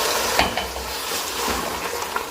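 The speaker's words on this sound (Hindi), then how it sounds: "6-7 मिनट ऐसे ही हम इसको भूनेंगे ताकि सारे मसाले इसमें शामिल हो जाए" Beef or mutton liver (kaleji) frying with spices in a pan makes a steady loud sizzle, with stirring scrapes and a few soft clinks over it.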